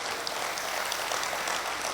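Audience applause at an international Urdu mushaira in Muscat, Oman, a steady dense wash of clapping from a large crowd, moderately loud and slightly distant, with no voices.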